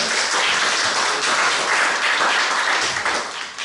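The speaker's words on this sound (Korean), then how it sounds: "영광의 박수 드리겠습니다." Applause from a church congregation during a Sunday service, a steady dense wash of many hands clapping that holds for several seconds and thins slightly toward the end.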